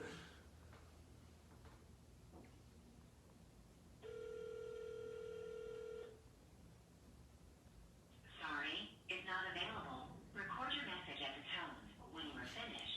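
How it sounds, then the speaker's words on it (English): A single steady telephone ring tone from an outgoing call sounds for about two seconds, heard faintly on the line, followed by people talking. "Let's see if they'll take our phone call."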